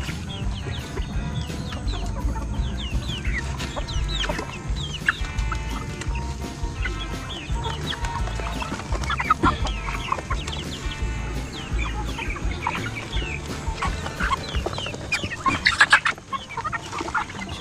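A flock of chickens pecking at scattered feed clucks and squawks continuously, many birds close together and busy, with no clear talking over them.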